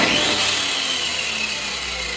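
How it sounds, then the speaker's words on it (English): Electric grain mill running at a few hundred RPM and grinding falling grain, giving a loud, steady, harsh whirring roar that holds constant throughout, close up with no talk. "It grinds really, really well, but it's very noisy."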